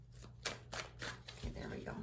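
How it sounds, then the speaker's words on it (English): Tarot cards being shuffled in a series of crisp riffling bursts, roughly four or five quick strokes close by, over a steady low background hum. "Get a couple more shuffles in."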